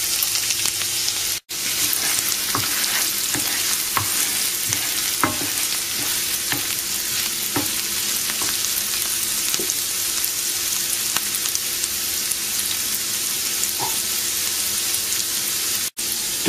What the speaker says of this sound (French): vous allez mettre les oignons dans la poêle avec un peu de beurre et vous allez les faire revenir.